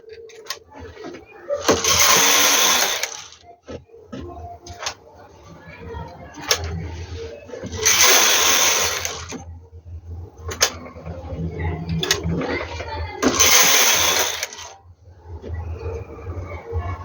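A knitting machine carriage runs across rows of a baby romper in three loud, rushing passes, each a few seconds long, separated by quieter clicks and handling noises.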